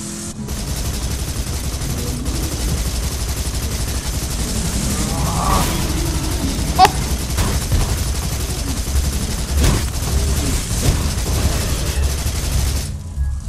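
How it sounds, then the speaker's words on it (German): Gunfire from a vehicle in Borderlands 2 rattles in dense bursts over a constant loud engine rumble, with a few sharper reports standing out. "Ein bisschen mit dem Fahrzeug hier rumballern."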